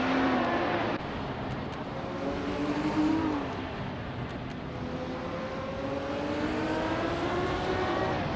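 A 1971 Porsche 917 LH race car engine in a racing game drones steadily and loudly, its pitch sliding up and down through gear changes as the car holds its pace over the whole stretch.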